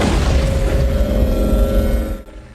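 A deep, rumbling missile launch blast from a helicopter in a film roars steadily for about two seconds before cutting off abruptly.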